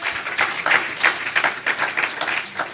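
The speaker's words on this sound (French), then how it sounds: "clap for the Lord" A church congregation claps along at a French-language worship service, producing quick, rhythmic bursts of applause that pulse evenly for a few seconds, fairly close and with no talking over it.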